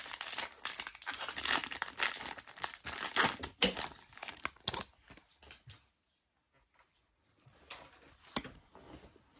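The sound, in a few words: tearing open Pokémon card booster pack wrappers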